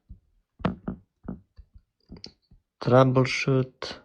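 A computer keyboard is tapped in a handful of sharp, separate clicks, close and fairly quiet, then a voice briefly takes over.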